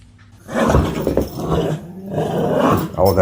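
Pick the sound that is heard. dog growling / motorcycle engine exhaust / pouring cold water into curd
dog growling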